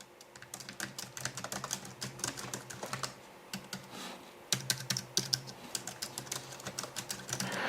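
Typing on a Rapoo E9800M thin wireless keyboard produces steady, fairly quiet key clicks in quick bursts, with a brief pause partway through, and no voices.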